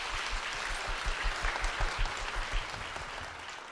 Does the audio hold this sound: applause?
yes